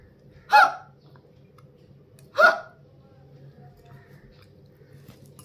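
Two sharp hiccups, a couple of seconds apart, close to the mic over a quiet low hum.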